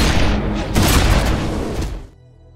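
Gunfire rings out in an action-film shootout between a mentor and a hired killer: a dense, loud, continuous volley of shots and booms that cuts off abruptly after about two seconds, leaving a low rumble.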